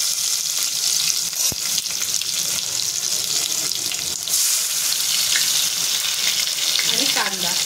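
Garlic and onion fry in hot oil for chole masala, giving a steady, loud, hissing sizzle that runs unbroken, with a faint voice surfacing briefly near the end.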